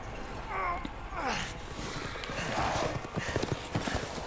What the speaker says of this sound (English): They got horses.